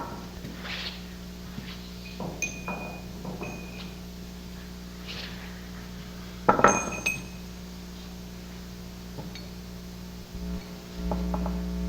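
Metal connecting rod caps clink and clatter as they are picked up and set down on a workbench, with a few sharp hard-metal knocks and a louder cluster of clanks near the middle, all in a quiet shop.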